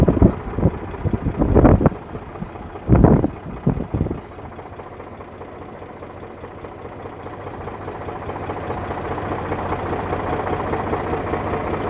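An Eicher 485 tractor engine idles with a low, steady chugging that grows slightly louder, after a few loud bumps and wind buffets at the microphone early on.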